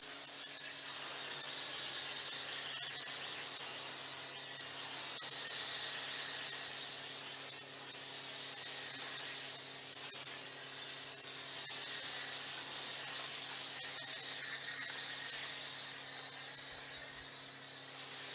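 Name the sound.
rinsing car with water spray after drying aid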